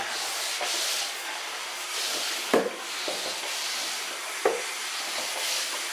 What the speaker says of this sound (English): we're using a bit of electricity and water converted to steam to clean